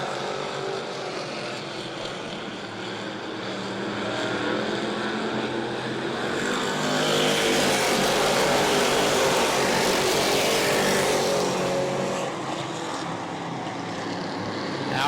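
Super stock race cars circle the track at New Smyrna, a continuous engine roar that swells as the pack passes nearby and then fades back to a distant drone, with no voices.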